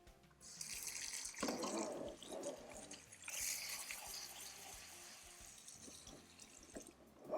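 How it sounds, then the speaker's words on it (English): Dried beans rinsed under a running kitchen tap, a steady broadband gush of water with splashing surges as the beans are stirred and rinsed in the sink, close and continuous with no talking. "Next, I'm going to go ahead and rinse the beans."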